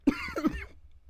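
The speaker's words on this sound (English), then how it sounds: "Really trying to hold back the cough here." A single throaty cough bursts out, followed by a second rougher hack, close to the microphone during a sports podcast, with no talk over it.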